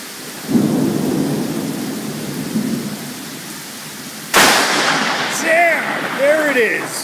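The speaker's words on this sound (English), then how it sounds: "I've never heard thunder this loud before." A loud thunder clap during a rainstorm bursts in sharply midway and rumbles on, after a stretch of steady rain, with excited voices reacting over the end.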